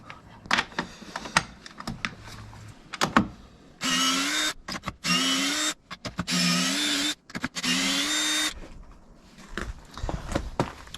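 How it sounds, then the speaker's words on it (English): Impact driver spinning off the small top mount nuts on an Audi A6 C7 front strut during a coil spring replacement: four loud, sustained whirring bursts with a steady motor whine, separated by short pauses, close by, after a few clicks of handling. "I use an impact driver or a drill of some kind to remove them all the way off"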